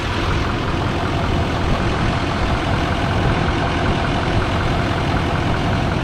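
A 2017 Chevrolet Silverado 2500HD truck engine idles close by, a continuous, even, loud rumble with no talk over it.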